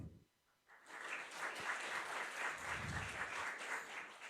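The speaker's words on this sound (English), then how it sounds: "So big round of applause for them too." An audience at the University of Tartu game jam event bursts into applause after a brief hush, with dense, sustained clapping that fills the room and stays fairly even to the end.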